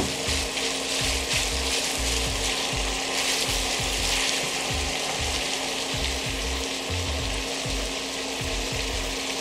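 Ground beef sizzling steadily in a pan during low-carb chili meal prep, a continuous broad hiss with occasional low thumps and scrapes of stirring, close and fairly loud with no talking.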